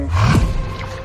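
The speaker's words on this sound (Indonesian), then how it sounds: "Hingga mereka pun diserang oleh beruang itu." Cocaine-crazed bear roaring as it attacks in the film Cocaine Bear, a short, loud, deep growling roar that swells and then trails off.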